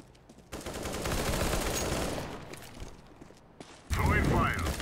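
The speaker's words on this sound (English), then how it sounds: "they're shooting at me" Gunfire in Counter-Strike: Global Offensive during a competitive round, with dense bursts of automatic shots that rise, fade briefly, then return in a sharp new volley, heard at moderate distance.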